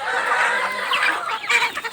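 Chickens cluck close by, several overlapping calls rising and falling over two seconds with no other sounds.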